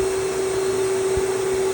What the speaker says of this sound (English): Put the vacuum cleaner nozzle on it